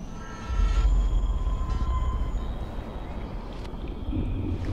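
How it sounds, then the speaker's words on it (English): A train approaches in the video game Life Is Strange, a low rumbling roar rising with faint tonal squeals and wind-like noise, steady and fairly loud. "Oh no, the train's coming. I hear it."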